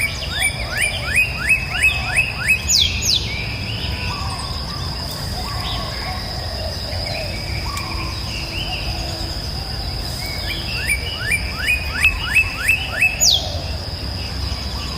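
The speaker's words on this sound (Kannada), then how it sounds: "ಎಷ್ಟು ಕಲರ್ಫುಲ್ ಬರ್ಡ್ಸ್ಗಳಿದ್ದಾವೆ" Birds at Mysore Zoo give bright, rapid chirping trills in two clear bursts over a steady insect-like hum and outdoor background noise.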